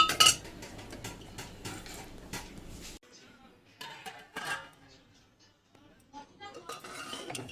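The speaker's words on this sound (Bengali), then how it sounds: "ভালো করে ভাজা হোক।" Clinking and scraping of a utensil in a pan on a home kitchen stove while something fries, busy and continuous at first, then quieter, sparser clatter with faint background voices.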